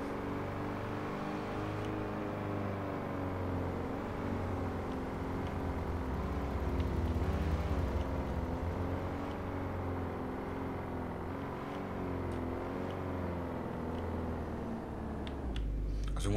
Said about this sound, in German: Also Motoren hören sich jetzt auch nicht so detailliert an.